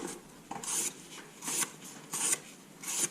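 An Opinel knife with a 6000-grit polished edge slices through cardboard in four or five separate rasping strokes, close and fairly quiet, with short pauses between cuts and no talking.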